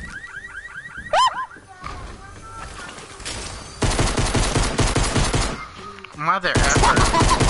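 Pistol gunfire in a video game: a dense run of rapid, loud shots fills the second half, with chirping and warbling game effects before and between, and a voice speaking briefly.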